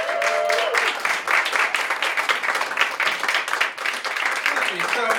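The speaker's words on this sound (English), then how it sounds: "Start clapping right now for my friend, Mr. David Chrem." Audience at Gotham Comedy Club applauding a stand-up comedian, steady dense clapping from a crowd filling the room throughout, with a voice speaking over it.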